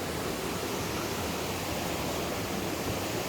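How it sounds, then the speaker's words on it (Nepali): A mountain river rushes in a constant, loud broadband roar, unbroken and with no voices. "खोला बगिरहेको छ।"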